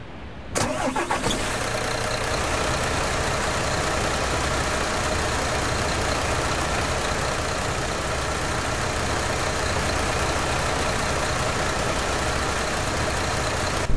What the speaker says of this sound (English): Let me turn off the engine again, because I want to show you how it sounds like from the outside.